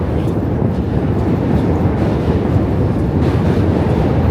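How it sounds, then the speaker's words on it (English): A New York City subway train rolls into a station, a loud continuous rumble and rattling roar filling the platform without pause. "Are we getting 2 trains coming today?"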